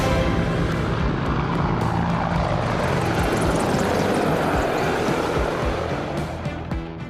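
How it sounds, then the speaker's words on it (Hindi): Military helicopters fly in formation over a Republic Day parade in India: one Light Combat Helicopter, two Apaches and two Advanced Light Helicopters. Their loud, steady rotor and engine roar stays constant overhead, easing slightly at the end. "इसमें एक लाइट कॉम्बैट हेलीकॉप्टर, 2 अपाचे और 2 एडवांस्ड लाइट हेलीकॉप्टर जोश और जुनून को चरम पर ले जाएंगे।"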